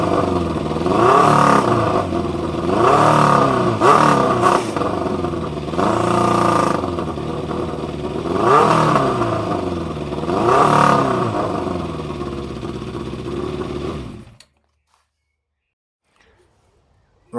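A Yamaha Fazer 600 motorcycle engine with freshly sorted carburettors revs roughly in repeated loud, close bursts that rise and fall, then cuts off abruptly into near silence.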